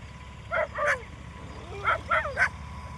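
Dogs bark near wild boars in open ground, two quick yips followed by a cluster of three sharp barks at moderate distance over a steady background hum.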